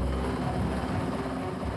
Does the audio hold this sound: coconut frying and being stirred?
no